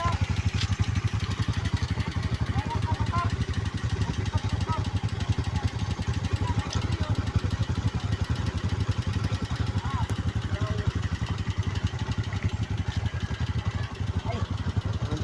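A motorcycle engine runs steadily nearby with an even, rapid pulsing throb and some mechanical clatter throughout, while people talk over it.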